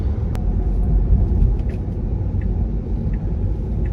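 A Tesla electric car on a test drive lap, heard from inside as a steady low rumble of road and motion noise with a faint whine, even and continuous, with no voices and no distinct events.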